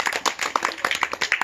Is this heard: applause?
yes